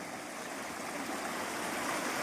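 Steady rushing of stream water in a forest, a constant broadband wash with no voices over it.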